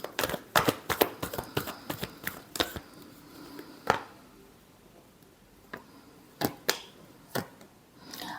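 Tarot cards shuffled by hand in a run of quick riffling slaps and flicks, dense at first, then a pause and a few scattered final shuffles, close and moderately loud, no voices.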